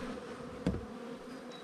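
Honey bees at a newly settled hive, a steady low buzzing drone throughout with one brief louder thump in the middle, no talking.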